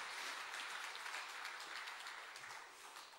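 A church congregation claps together in a dense, steady round of applause that fills the room, easing off slightly near the end.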